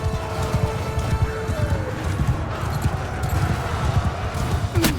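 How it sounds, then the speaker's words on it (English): Horses galloping in the medieval battle game Mount & Blade II Bannerlord, a steady run of dense hoofbeats rolling close by amid battle noise, with no talk over it. "There's always a horse in the way."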